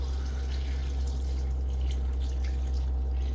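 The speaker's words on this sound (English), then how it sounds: "So I'm using filtered water to soak these in" Filtered water pours over strawberries to soak them, a steady soft trickling wash heard close and alone, with a low constant hum beneath and no talk.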